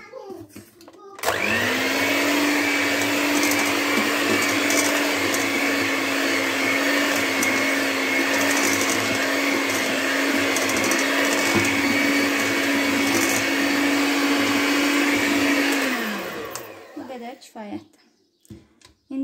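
Electric hand mixer whirring through coffee cake batter, a steady loud motor drone running continuously for about fifteen seconds before winding down, with faint talk around it.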